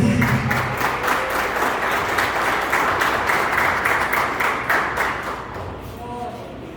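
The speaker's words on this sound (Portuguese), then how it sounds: "com um lindo aplauso para Jesus" A church congregation at a family worship service applauds loudly and continuously, a dense wash of clapping that gradually fades toward the end.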